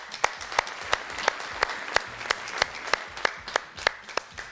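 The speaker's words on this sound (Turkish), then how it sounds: "Ne güzel alkışlıyorsunuz." Studio audience on a television quiz show clapping in unison, a steady rhythmic beat of sharp synchronized claps about three per second, fairly close and even.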